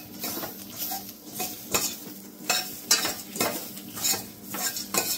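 Spices roasting in a hot pan for Goan mushroom masala, with a soft, steady sizzle under repeated clinks and scrapes of a spoon stirring, close and fairly quiet, with no voices.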